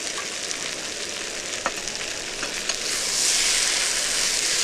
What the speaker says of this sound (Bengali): চিংড়ি মাছগুলো ভাজা চিংড়ি মাছগুলো দিয়ে দিলাম